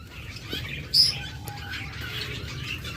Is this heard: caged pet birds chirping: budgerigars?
yes